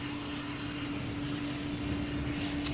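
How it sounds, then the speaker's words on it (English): Auxiliary power unit on a parked KLM Embraer E195-E2 at Amsterdam Schiphol, main engines off, giving a steady droning hum with a sustained tone and broad airy hiss, constant and fairly near. "what you're hearing is the APU, the auxiliary power unit"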